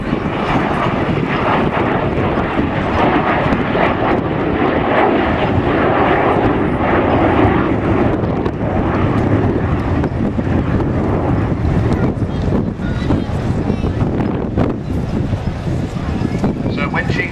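Avro Vulcan bomber jet engines roaring steadily and loud through a flying display at RIAT 2010, a broad continuous rumble with heavy wind buffeting on the microphone and a commentator talking over it.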